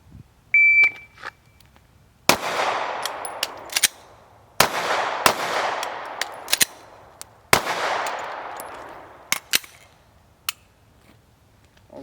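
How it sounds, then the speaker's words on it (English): A handgun drawn from a holster and fired in a stoppage-clearance drill: sharp, loud reports with ringing decay in separate bursts, with gaps where the malfunction is cleared, plus a brief electronic beep at the start. "So you're going to draw from the holster, attempt to fire 6 times."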